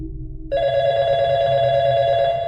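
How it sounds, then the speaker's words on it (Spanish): A telephone rings in a steady electronic tone that starts suddenly and stays loud and close, with a low rumble underneath. No one speaks. "Justo entonces sonó el teléfono"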